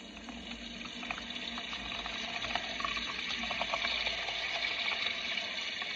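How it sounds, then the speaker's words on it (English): Homemade sofrito is poured into a container, giving a steady wet gurgling and splashing rush that runs continuously at moderate loudness with small irregular clicks and no talk. "Now, I am going to have to pour this into a container because I have more here."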